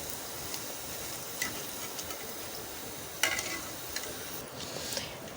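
Thin strips of cabbage for jhuri bhaja fry in a pan, a faint, soft, even crackle with occasional sharper ticks and light stirring taps throughout.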